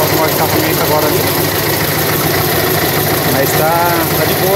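A rebuilt air-cooled VW engine of the Gol BX, Beetle and Kombi type runs loudly and steadily near the microphone, a constant rough idle with slight rises in pitch as it is revved.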